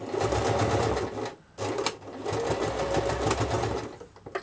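A sewing machine stitches fabric for small doll accessories, running in a close, loud, rapid mechanical whir with a brief pause before it starts again, with no talk.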